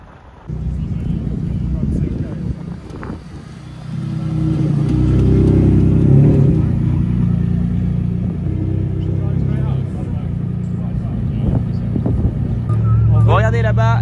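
A Koenigsegg Regera hypercar's powerful engine roars and builds as it pulls away from a car meet, with wind noise and a voice speaking near the end.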